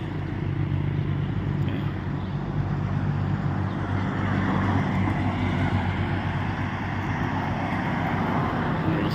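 A ten-wheeler truck rolls along a street in Vientiane, Laos, its heavy engine rumbling loud and close without pause, mixed with a dense wash of surrounding traffic noise.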